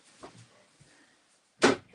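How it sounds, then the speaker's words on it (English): A room door closes with one sharp, close thud near the end, after a softer knock earlier and otherwise quiet surroundings. "I'm going to also close my door."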